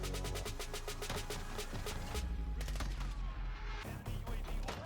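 Rapid gunfire in a Call of Duty match, repeated sharp shots in quick bursts over a dense, constant game soundscape, with a player's voice mixed in.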